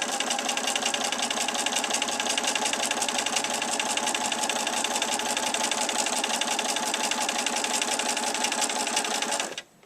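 A sewing machine stitches quilt fabric in a fast, steady, close mechanical run that stops abruptly at the end.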